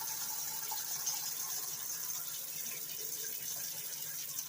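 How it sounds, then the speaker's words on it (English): Tap water runs into the bottom pot of an IKEA steamer being readied for steaming potatoes, a faint, even pouring stream heard alone for several seconds. "I just fill water at the bottom."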